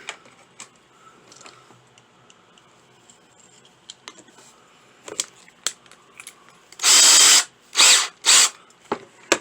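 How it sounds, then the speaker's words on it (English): Three short bursts of a power drill whirring loudly, starting and stopping in quick succession after several seconds of quiet clicks and handling noises near a car and trailer. "Get my drill."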